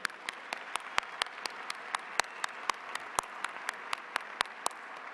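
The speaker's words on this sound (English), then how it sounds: "One more round of applause, please." Steady applause from a large college commencement crowd after a symphonic band performance, a dense far-off wash of clapping with a few distinct nearby claps popping out, moderately quiet and sustained.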